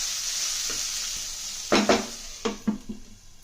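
Onions fry with salt and turmeric in a pan, giving a steady close sizzle, then several distinct scraping stirs come in bursts toward the end.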